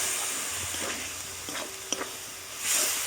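Ginger frying in a pan with a steady hiss and sizzle, punctuated by a few soft scraping stirs and a brief louder burst of steam near the end.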